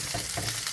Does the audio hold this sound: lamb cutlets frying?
yes